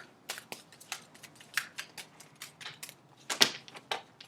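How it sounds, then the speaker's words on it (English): Soft, irregular riffling and tapping of tarot cards being shuffled, a close, quiet series of crisp flicks with no talking. "I shuffle."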